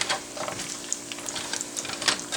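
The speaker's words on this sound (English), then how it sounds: "Let's give it a good stir." Peppers and onion stirred in oil in a pan that is not yet very hot, a soft continuous sizzle with light scraping stir sounds scattered throughout, close and fairly quiet.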